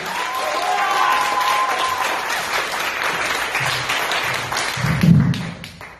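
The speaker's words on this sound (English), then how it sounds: "put your hands together right now, start clapping for Alex Logic." A comedy club audience claps for a contestant at a stand-up competition, dense sustained applause close and full for several seconds before tapering off, with a few scattered voices underneath.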